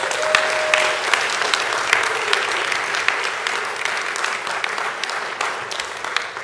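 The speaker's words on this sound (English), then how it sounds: "let's give Frank a well-rounded applause" An awards-ceremony audience in San Francisco gives Frank sustained, loud applause, dense clapping that carries on evenly for several seconds with no speech over it.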